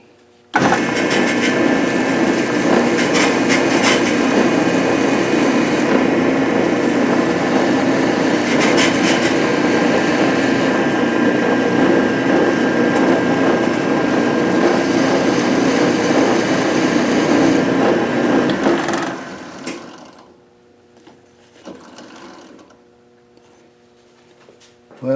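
A spinning lathe whirs steadily and loudly while a Scotch-Brite pad rubs the cut threads clean, then the machine winds down and stops near the end, leaving quiet clicks.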